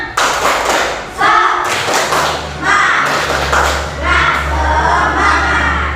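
Children in a classroom perform a rhythmic spirit clap, a run of loud, close group claps and thumps with energetic shouting over a low background hum.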